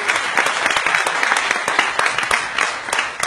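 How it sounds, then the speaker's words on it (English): Steady, dense applause from a live audience at a libertarian talk-show taping, many hands clapping continuously at close range and fairly loud for the whole stretch, with no voices standing out. "Everybody give a round of applause again to Jeff Libert."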